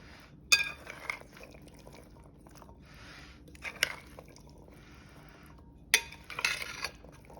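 A utensil stirring an artichoke and chickpea salad with olives, dressing and parsley in a pan, giving a few distinct metallic clinks against the pan between quiet wet shuffling.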